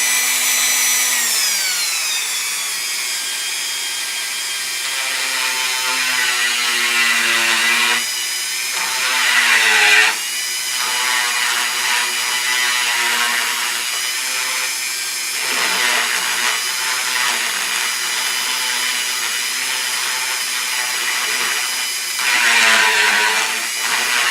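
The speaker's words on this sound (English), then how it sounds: "I'll use my favorite tool, the Dremel. What we'll do is we'll just kind of grind it out a little bit" A Dremel rotary tool grinding out wood to seat a pocket door guide, a loud high whine that rises and dips in pitch over several passes with brief pauses between them.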